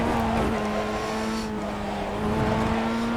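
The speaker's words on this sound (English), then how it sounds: "You can hear the tires just screaming for life." Tires squeal steadily on a Formula 1600 race car at VIR in iRacing, a continuous high strained whine over a droning engine, with no speech.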